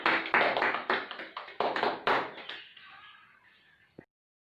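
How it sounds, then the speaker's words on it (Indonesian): Children in a classroom clap together in loud bursts that gradually fade into scattered claps and die away, ending with a single sharp tap before silence. "Mari kita berikan tepuk tangan."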